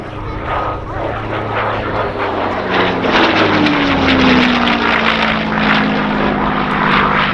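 Propeller drone of a Mustang fighter with a Rolls-Royce Merlin engine at RAF Cosford Airshow 2019, loud and sustained, with a clear falling pitch sweep as it passes overhead and faint talk mixed in.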